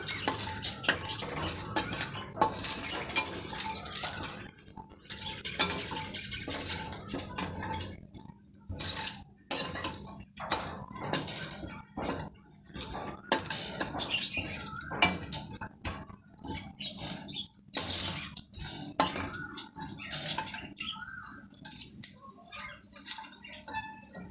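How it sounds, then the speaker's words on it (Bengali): Cashews and raisins frying in a pan for prawn pulao, stirred with a utensil: irregular scraping and clinking strokes over a low, steady sizzle, with brief quiet pauses between bursts of stirring. "এখন আমি এই কাজু আর কিশমিশগুলো দিয়ে দিলাম একটু হালকা লাল করে ভেজে নেব"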